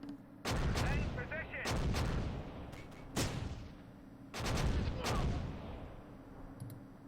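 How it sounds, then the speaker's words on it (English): Mortar fire in the WWII strategy game Close Combat: several heavy booming explosions with rumbling decay, spaced a second or two apart, with faint clicks between. "I think that might be the enemy mortar somewhere around this area"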